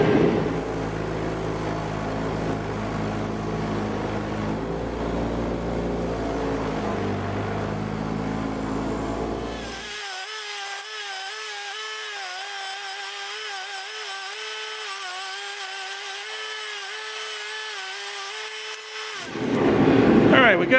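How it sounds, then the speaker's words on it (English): A 6-inch Tradesman bench grinder cleaning up metal parts runs steadily with a harsh grinding whine, shifting to a higher, thinner motor hum midway before the heavier grinding returns at the end. "it's time to use the old grinder that I brought in from the house to clean up some of the rest of the parts"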